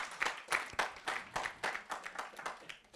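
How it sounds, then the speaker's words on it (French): Small audience clapping at the close of a roundtable on patient trust at a health forum, a sparse, uneven patter of individual claps, fairly distinct and moderately close, with no talk over it. "Vous applaudissez là aussi."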